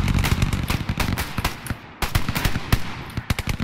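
Rapid bursts of automatic gunfire in the Hell Let Loose World War II shooter, dense overlapping shots with a brief lull near the middle, loud and close.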